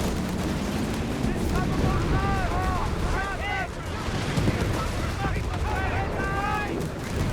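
Artillery shelling in the World War II strategy game Company of Heroes 3 as riflemen advance, a dense rumble of blasts and gunfire running all the way through, with someone commentating over it.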